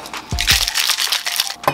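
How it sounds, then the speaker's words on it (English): A cocktail shaker full of ice is worked hard to mix an apple martini, giving a close, loud run of quick rattling, clattering bursts with no talking. "Gonna shake it up."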